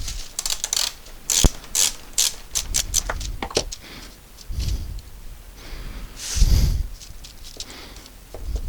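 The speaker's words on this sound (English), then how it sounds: "got to reposition the worm drive on this clamp." Worm drive on a woodworking clamp being repositioned during a large woodturning glue-up, giving close, irregular bursts of ratcheting mechanical clicks and clatter with short pauses between them.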